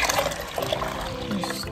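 The first batch of indigo dye liquid, made from dried indigo leaves and still hot, is poured steadily into a vessel with a continuous splashing, trickling flow.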